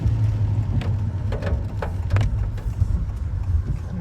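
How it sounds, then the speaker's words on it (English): A car passes on a rough trail through coal-mining country, a steady, close engine rumble that swells and fades slightly, with no talk over it. "I'll pull over here and let the car by."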